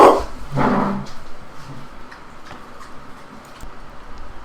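A 100-pound Mastiff mix dog gives two loud, deep barks in quick succession at the very start, indoors, followed by quieter room noise and faint ticking.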